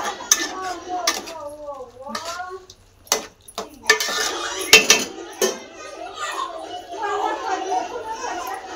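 Chicken lollipops are stirred with masala in a pan, with metal utensils clattering and scraping in sharp bursts, close and loud, while a voice and children are heard in the background.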